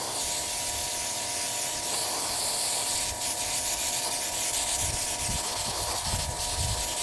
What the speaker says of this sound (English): I've been spraying the seats